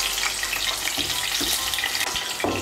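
Hot oil left after frying fish sizzles loudly and steadily in the pan, close up, with a few soft knocks and clatters as pieces are moved about.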